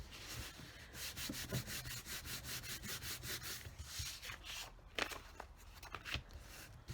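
Collage paper is folded over and pressed down with repeated rubbing strokes, a soft, rhythmic scraping close by, faint and steady with a few sharper crinkles.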